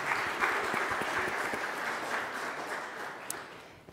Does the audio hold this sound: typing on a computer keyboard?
no